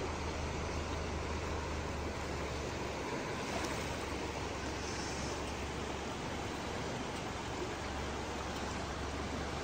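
Water rushes steadily in a dense, unbroken wash of noise, loud and close, with no voices, at Scandinave Spa in the Blue Mountains.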